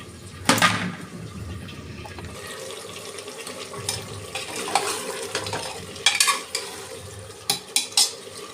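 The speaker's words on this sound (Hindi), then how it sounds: "सब्जी जब तक अभी भुन रही है" Vegetables fry in a pan with a steady hiss and sizzle, broken by occasional clinks and scrapes of stirring.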